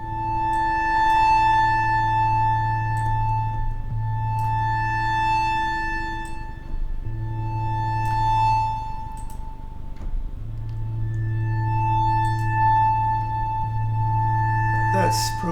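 A sustained organ-string synth pad with slowly sweeping low-rate phaser movement and a washy plate reverb tail, chords shifting every few seconds, steady and fairly loud.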